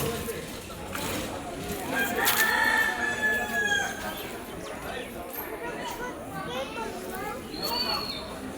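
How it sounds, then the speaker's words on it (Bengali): A rooster crows once, loudly and close, over a busy background of children playing and people talking, followed by scattered clucking. "মোরগটা করছে কক কক করছে"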